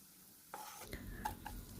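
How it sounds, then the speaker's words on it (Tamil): Grated ginger hits hot oil with mustard seeds and urad dal in a pan, bursting into a soft sizzle followed by a couple of stirring scrapes and clinks, quiet and close. "அதில் கொஞ்சமாக இஞ்சி துருவலையும் சேர்த்து நல்லா வதக்கிறோம்."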